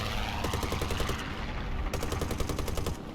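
Aircraft machine guns in a flight game hammer out two rapid bursts of steady, evenly spaced shots over a constant loud engine roar, close and dense.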